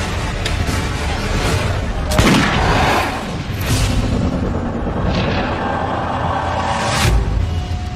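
Gunpowder weapons firing in a battle scene, a rough continuous roar of gunfire with several heavier booming shots standing out from the din.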